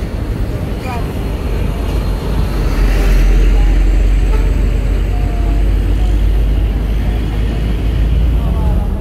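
Agung Sejati sleeper bus passing on a road near Cikarang, a broad engine and road rumble that swells loudest around the midpoint and then holds as it goes by.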